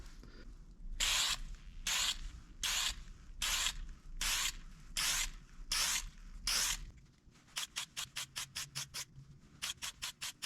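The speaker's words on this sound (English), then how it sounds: "going to spray it here" Spray gun laying a first coat of lacquer on a turned live-edge stained wooden vase outdoors in cold weather: about eight long hissing bursts, then a run of short rapid spurts, close and fairly loud with no talking.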